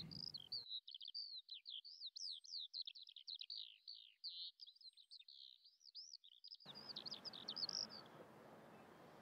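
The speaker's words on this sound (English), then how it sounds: "The sound of birds are above the cemetery." Birds sing above an old front-line cemetery reclaimed by nature, with a steady run of rapid, high-pitched chirps and trills, faint and distant over a soft outdoor background hiss.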